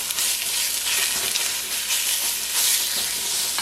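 Pork sausage frying in a pot, a continuous bright sizzle and crackle, close and fairly loud, with slight swells as it is stirred and no talking.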